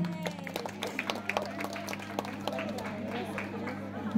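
An audience applauds a speech contestant at a school speech competition, with scattered clapping going on for several seconds at moderate distance, and a voice talks over it.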